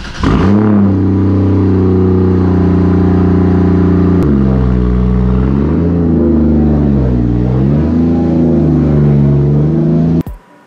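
A Saab 2.8t drift car engine, worn valve stem seals, cranks and fires, settling into a loud, steady idle. It rises and falls through several close-miked revs before cutting off sharply at the end.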